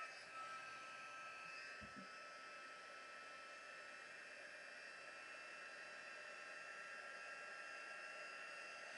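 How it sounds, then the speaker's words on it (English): Heat embossing tool blowing a steady, hissing rush of hot air, loud and constant throughout, with a brief click near the start and no voices. "I'm gonna turn on the heat tool so it might make some noise."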